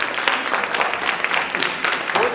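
An audience at a youth philanthropy finals evening applauds in a dense, steady patter of clapping that fills the room, with faint voices mixed in.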